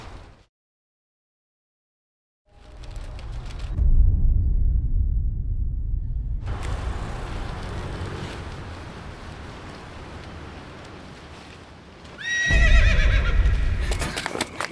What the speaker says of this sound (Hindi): घोड़े को छोड़ दीजिए ना सर